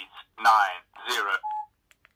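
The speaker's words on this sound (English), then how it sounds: "Keypad tone, talking keys" A Doro 6520 big-button senior flip phone plays its keypad tones as keys are pressed, with a synthetic talking-key voice over short beeps, ending on a sustained tone and two tiny clicks.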